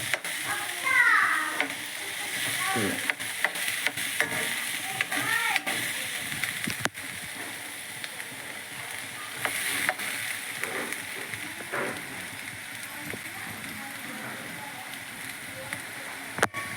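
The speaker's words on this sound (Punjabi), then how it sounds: "ਫਿਲਹਾਲ ਤਾਂ ਆਪਾਂ ਦਾਲ ਨੂੰ ਭੁੰਨ ਰਹੇ ਆ" Dry dal lentils roasting in a pan, a continuous soft sizzle with occasional stirring scrapes and rattles, while a person talks over it.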